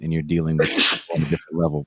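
A single loud sneeze bursts out close by in the middle of a man's conversational speech, which resumes right after.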